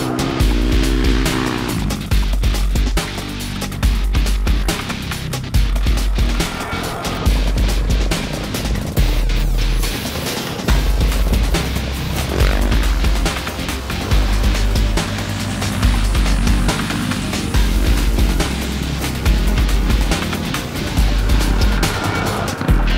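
A WK 450 RX motorcycle being ridden, engine droning loud and steady with a strong low pulsing beat and wind noise, changing slightly in pitch as it goes.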